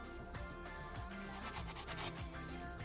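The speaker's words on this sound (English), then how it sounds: "it's a brand new file this, it's a bit rough for me. Just just going to straighten the edge." Close, quiet rasping strokes of a brand-new, rough nail file straightening the edges of polygel nails, repeated in a quick back-and-forth rhythm.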